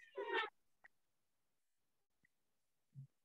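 House cat meowing at home during an online class, one clear close meow followed by faint clicks and a short low murmur.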